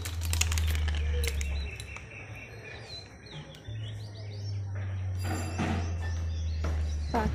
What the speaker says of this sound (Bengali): পাখিরা তো কিচিরমিচির শুরু করে দিয়েছে কোন ভোরে।